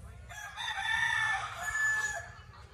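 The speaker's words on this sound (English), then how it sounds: "Those are Sammy's birds." A backyard rooster crows loudly and close, a long drawn-out call followed by a second crow, with faint chicken clucking beneath on a house-building site in the Philippines.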